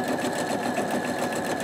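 A sewing machine stitches fabric while piecing a quilt block, a steady, fast, even mechanical whir running close and continuous without pause, with no talking.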